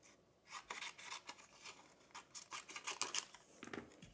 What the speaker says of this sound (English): And I'm gonna have to take a pair of scissors.